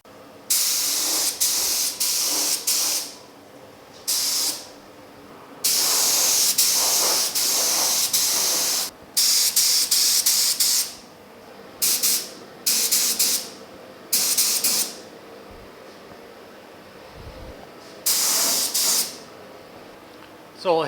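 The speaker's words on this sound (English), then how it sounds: "So let's grab the gun and get these things spot primed." A paint spray gun spot-primes the doors of a 1950 Chevy truck, sending repeated loud, close hissing bursts of varying length, some long and steady and others short and quick, with brief pauses between them.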